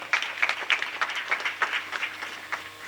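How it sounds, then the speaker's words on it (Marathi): A crowd at a Marathi devotional kirtan sermon by Anil Maharaj claps together in a quick, steady rhythm, a close run of roughly a dozen sharp claps over a few seconds with no talk. "एकदा टाळ्या वाजवा याच्याकरता"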